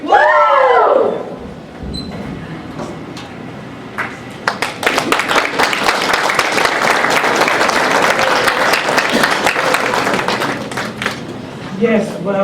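An audience applauds for a Classics on Parade stage production, a dense burst of clapping that swells and holds for several seconds, with voices shouting over the start.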